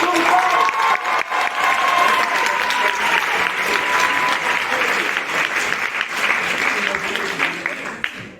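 An audience at a comedy show at the Université d'Angers applauds loudly and continuously, a dense wash of clapping that slowly thins toward the end.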